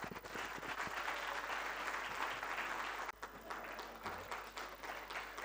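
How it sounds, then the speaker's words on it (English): A large audience at the Merck Foundation Africa Asia Luminary Conference breaks into sustained applause, dense continuous clapping with a brief dip partway through before carrying on. "Big round of applause to"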